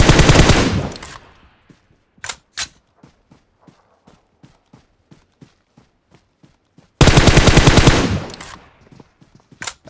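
Gunfire in PUBG, two long loud bursts of rapid automatic fire at the start and near the end, with scattered single shots and quiet footstep-like taps in between.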